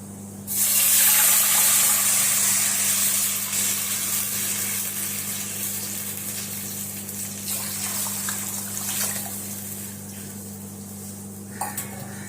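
Water pours steadily into a cooking vessel while preparing semolina kesari, a loud rushing gush that starts abruptly and continues for about ten seconds, tapering off near the end over a steady low hum.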